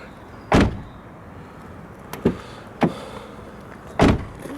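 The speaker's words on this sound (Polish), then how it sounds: "Posłuchajmy może jeszcze jak drzwi się zamykają," Four separate heavy thuds of 2016 VW Passat B8 Variant estate car doors shutting, spaced unevenly a second or so apart, each a solid close slam with a short decay.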